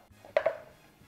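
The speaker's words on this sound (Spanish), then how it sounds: "vamos a seguir así picando todos los tomates" A knife chopping tomatoes on a cutting board for a beef salpicón salad: two quick, crisp strikes close up, then quiet.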